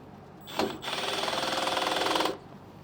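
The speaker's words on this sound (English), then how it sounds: "just drill into it" A power drill bites into a metal boat trailer bracket in one whirring burst of about two seconds. The whine starts with a brief catch, then runs steadily before cutting off, close and moderately loud with no talking.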